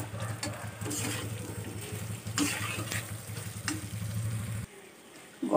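Potato and cauliflower sauté in a hot pan, giving a steady close sizzle with a few scraping stirs, then the frying cuts off abruptly near the end.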